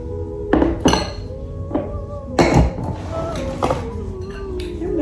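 A metal spoon clinks against a pot or bowl several times in a home kitchen while sugar is added, giving bright scattered taps with short ringing tails.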